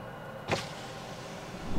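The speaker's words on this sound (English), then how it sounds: "Open driver side window." On a 2024 MG Astor SUV, the driver side power window starts opening on command, a brief motor whir and rush of air inside the quiet cabin, followed by rising low rumble.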